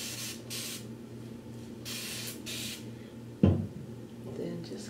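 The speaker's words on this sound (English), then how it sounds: "I'm gonna spray that to this section just to get it wet a little bit" A water spray bottle mists a section of hair in about three soft, quick spritzes close by, followed by a brief knock and faint rustling.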